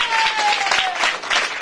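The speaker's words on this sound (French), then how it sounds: "bravo pour ce merveilleux trophée, on applaudit" A festival audience at an Amazigh cultural event in Paris applauds a gold-embroidered trophy, a brief steady burst of crowd clapping, fairly loud and continuous with a faint tone running underneath.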